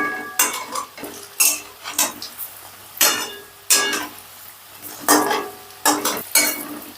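Egg and lentil fritters turned over one by one in a frying pan, giving several distinct metallic scrapes and clinks of a utensil against the pan in an irregular rhythm over a soft, steady sizzle of oil, close by.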